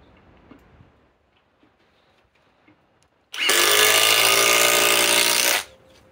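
Milwaukee M18 Fuel Gen 4 impact driver on a 3 amp 21700-cell battery, quiet at first with small ticks, then a loud close burst of hammering whine for about two seconds before stopping abruptly.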